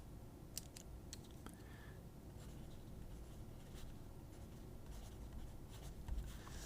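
Pencil lead from a Pentel Graph mechanical pencil scratching across graph paper, a quiet steady scritch with faint intermittent strokes close up.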